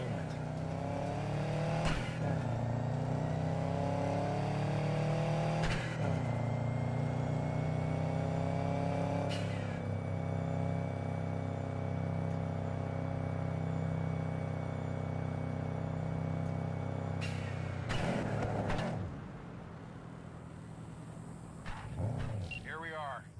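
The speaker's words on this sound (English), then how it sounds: "Go ahead, kill the engine." Car engine idling steadily in the Cyberpunk 2077 video game, a loud continuous hum held for about eighteen seconds beside a few sharp transient clicks before the engine cuts and the level drops; voices talk over it.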